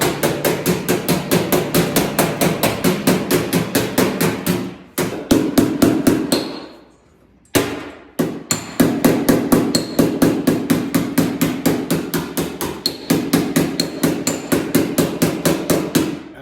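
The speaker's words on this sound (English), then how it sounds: "it's just a lot of hammering and wrapping this edge" A hammer and dolly fold the edge of a replacement door skin on a 1972 GMC C10, with rapid, steady metallic blows that continue alone for a long stretch, pausing briefly once.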